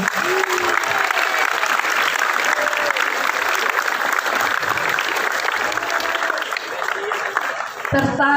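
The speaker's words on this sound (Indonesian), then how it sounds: "Tepuk tangan dulu." Junior high school students applaud at an outdoor morning assembly. The clapping is dense, loud and continuous for about eight seconds, with crowd noise mixed in.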